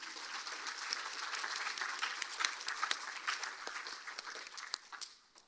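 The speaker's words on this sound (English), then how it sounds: "One more round of applause for everyone." An audience at the 2023 Miss Dale Fall Festival Pageant claps, a moderate crowd with distinct individual claps popping out of the patter before it thins and tapers off at the end.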